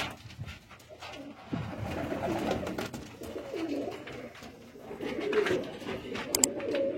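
Ferozpuri breed pigeon, a seven-year-old bird, cooing in soft repeated low calls, close by and steady over background rustle, with no talk.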